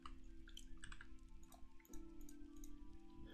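Someone types on a quieter computer keyboard. Soft, irregular clicks of keystrokes patter quickly over a faint background hum.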